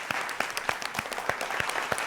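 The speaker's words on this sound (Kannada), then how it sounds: "ಬರಲಿ ಜೋರಾದ ಚಪ್ಪಾಳೆ." Applause from a studio audience at a televised Kannada singing reality show, a dense steady patter of many hands clapping with sharper claps standing out, continuing evenly throughout.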